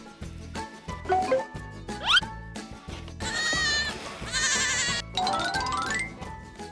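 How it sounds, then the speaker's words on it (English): Goats bleat repeatedly nearby, several loud, wavering cries overlapping, with short pauses and low background noise between calls. "The goats are led out every morning to find food, and the baby ones will follow the big ones."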